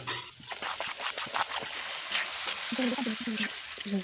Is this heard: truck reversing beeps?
no